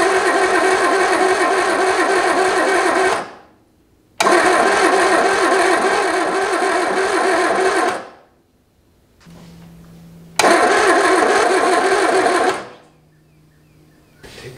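An abandoned 1976 MG Midget, primed with brake cleaner, cranks in three long bursts, each a loud rhythmic churning with pauses in between. A faint hum and a brief low tone fill the gaps.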